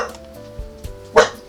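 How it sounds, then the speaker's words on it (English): Dogs barking somewhere in a residential complex, one sharp distant bark standing out near the end after a couple of fainter ones, over a quiet background hum. "I don't understand how people can let their dogs bark incessantly."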